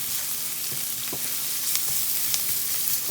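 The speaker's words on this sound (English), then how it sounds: "Okay, we got these onions sauteing a little. Now we're going to add a little bit of garlic" Onions and garlic sauté in a pan for stuffed Cornish game hens, a steady close sizzle with a few light stirring scrapes, no voices.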